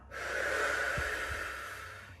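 A long, steady breath out, airy and close, with a couple of soft low bumps near the middle.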